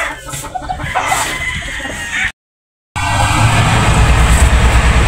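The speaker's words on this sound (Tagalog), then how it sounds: "yung UTV na kinakarga namin ng mga manok" Chickens and roosters cluck and crow while being loaded onto a UTV, steady overlapping fowl calls with rumbling motor noise, briefly cut by a gap of silence before continuing loudly.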